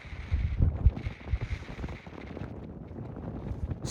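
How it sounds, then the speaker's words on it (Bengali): Strong wind buffets the microphone high in the mountains of North Sikkim at around 18,000 feet, a rough, gusty roar with no voices. "সেই হাওয়া, সেই লেভেলের হাওয়া,"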